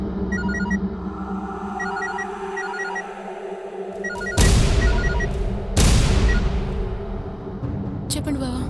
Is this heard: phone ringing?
yes